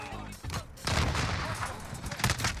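Automatic M4A1 rifle gunfire in a video game, built for maximum recoil: a sustained loud burst of rapid shots after a brief opening pop, dense and continuous to the end.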